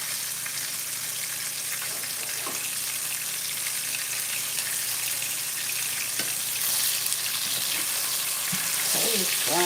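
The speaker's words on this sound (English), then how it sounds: "it's frying up pretty good" Steak sizzles steadily in a hot pan, a dense, constant frying hiss close by with occasional faint clinks, growing slightly louder toward the end, no talking.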